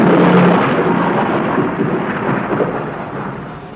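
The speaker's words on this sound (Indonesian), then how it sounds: "Hujan turun dengan lebatnya. Angin dingin menderu-deru disusul dengan suara petir." Radio drama thunder and heavy rain on a stormy night: a deep, rolling thunderclap rumbles loudly and slowly fades over a steady wash of downpour, with no voices.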